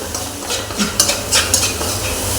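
Grated coconut roasting in a hot pan gives a steady, close sizzle, with occasional scrapes and soft clinks from a spoon stirring against the metal, and no one talking.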